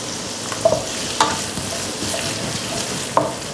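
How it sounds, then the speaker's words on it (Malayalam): Garlic, ginger and chopped green chili fry in hot sunflower oil for okra fry, giving a steady close sizzle broken by a few sharp clinks of a spoon against the pan. "എണ്ണ ചൂടായി വരുമ്പോൾ വെളുത്തുള്ളി ഇട്ട് കൊടുക്കാം, ഇഞ്ചി ഇട്ട് കൊടുക്കാം, പച്ചമുളക് 2 പച്ചമുളക് അരിഞ്ഞ് വെച്ചിരിക്കുന്നത്"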